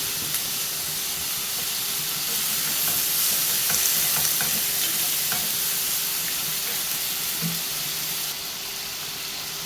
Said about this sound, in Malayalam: നമ്മുടെ ചിക്കൻ ഇവിടെ ഫ്രൈ ആയിട്ടുണ്ട്